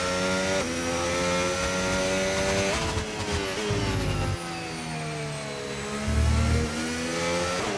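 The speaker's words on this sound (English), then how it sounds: "Up to speed now, let's get some heat into those tyres." An F1 car in the F1 25 racing game accelerates hard out of a pit stop, its high-pitched engine screaming up through rising revs with quick gear shifts, loud and continuous without speech.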